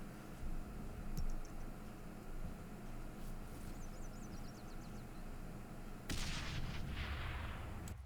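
Grenade blast in the video game Breaking Point, a single loud broadband burst arriving late after a stretch of quiet ambient noise and faint clicks, decaying over a couple of seconds.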